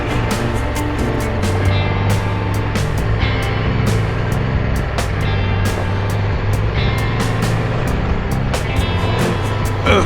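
An SM1000 motorcycle, a heavy 550-pound bike, drones steadily close by while it rides over rough terrain, with a continuous engine rumble, constant wind roar and frequent sharp knocks and clatters from the ground.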